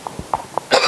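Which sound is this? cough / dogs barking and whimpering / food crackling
cough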